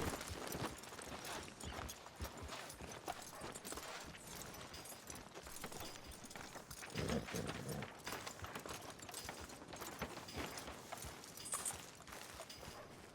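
Horse hooves clip-clopping in the video game Red Dead Redemption 2, a steady rhythmic trot on a town street under dense game ambience.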